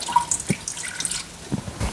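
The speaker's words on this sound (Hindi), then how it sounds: "डालूंगी पानी।" Water poured into the inner pot of an Instant Pot, light irregular splashing and dripping, fairly close, with no talk.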